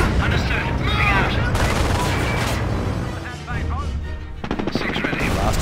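Sustained enemy gunfire in a Company of Heroes battle on the Langres map: dense, continuous bursts of rifle and machine-gun fire with booming impacts, loud and close, mixed with shouted voices and radio chatter.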